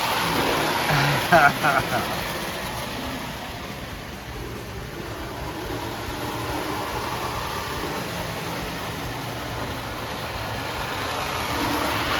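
An old Marx toy train fitted with Lego lights runs with a continuous whirring, rattling hum that stays fairly steady, with a brief clatter early on.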